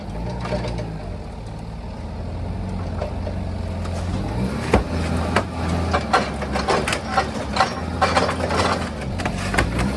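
A forklift engine chugs at a low, steady idle. Irregular mechanical clunks and rattles build over it, growing more frequent toward the end.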